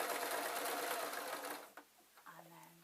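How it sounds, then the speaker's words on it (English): A sewing machine runs steadily while stitching the seam of a dog Christmas stocking, then stops partway through, followed by quiet handling sounds. "So I'm just literally sewing up, making sure that the seams meet,"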